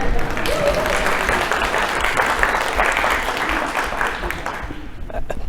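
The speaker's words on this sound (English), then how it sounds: "Spanky also deserves a round of applause." At a spring social work hooding ceremony, an audience gives a steady round of applause for Spanky, continuous clapping that tapers slightly at the close.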